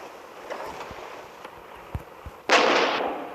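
A tank video game: faint thuds and small pops, then a loud bomb explosion that roars and slowly fades.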